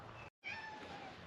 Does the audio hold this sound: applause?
no